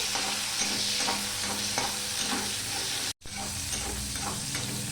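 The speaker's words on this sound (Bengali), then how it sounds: "পেঁয়াজটা কিছুটা ভাজা হয়ে গেছে" Onion frying with panch phoron in oil in a pan, a dense continuous sizzle with soft stirring scrapes and one very brief dropout partway through, no voices.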